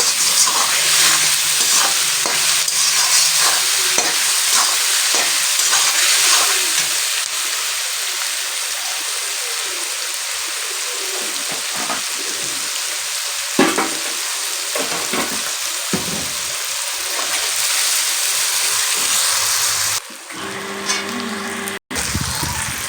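Spices with turmeric powder frying in a pan for a Bengali mutton curry, a steady close sizzle with occasional stirring scrapes and brief clatters near the end.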